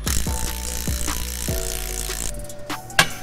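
An impact gun spins off the brake caliper bolts on an Acura TL Type-S, with several short whirring bursts in a row followed by metallic clanks in a garage.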